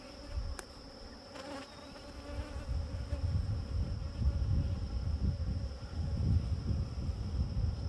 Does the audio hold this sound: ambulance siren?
no